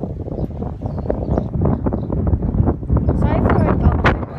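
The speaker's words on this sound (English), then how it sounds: "Sorry for all the noises. It's really windy outside." Strong gusts buffet the microphone outdoors near a playground swing set on a windy day, a loud, continuous rumbling roar with bursts that rise and fall throughout.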